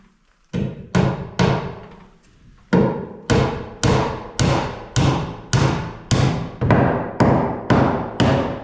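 Hammer blows driving a nail up into a roof rafter while installing bird blocking: a dozen sharp, loud strikes in a steady rhythm, with a short pause after the first few, close by and with no talk.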